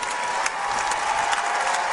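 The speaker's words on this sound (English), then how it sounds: "as they give the big ovation from the crowd" An arena crowd in Columbus gives a sustained ovation at the end of a women's basketball game between Ohio State and Michigan State, a dense, steady roar of clapping with no clear voices.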